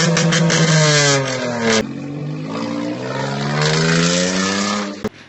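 A loud, raw Peugeot 107 engine with no exhaust pipe revving hard, pitch climbing and dropping through repeated bursts, close up and harsh with no talking.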